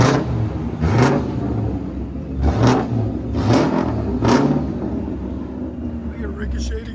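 Several sharp, short throttle blips come from a 2012 Audi TTS 2.0L turbo fitted with a Vibrant resonator exhaust, spaced about a second apart over a low idle. Faint voices appear near the end.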